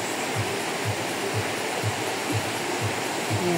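Steady rushing water flows continuously, a dense broadband wash with no voices, close and even in loudness throughout.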